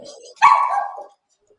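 A single dog bark, fairly close and clear, following a moment of low talk and then fading to silence.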